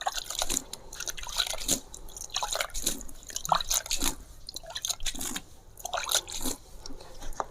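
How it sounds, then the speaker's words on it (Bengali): Water is poured onto a freshly built layer of homemade organic fertilizer, giving irregular splashing and gurgling bursts close by, with no talking. "এখানে জল দিয়ে দেব, একদম ভরপুর করে আমি জল দেব"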